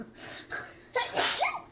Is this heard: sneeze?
yes